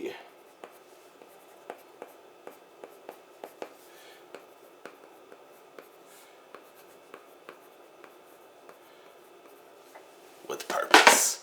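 A marker squeaks and taps against a board in a steady series of short strokes, quiet and close, with a louder rustle at the very end.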